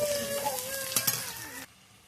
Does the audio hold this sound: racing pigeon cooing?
no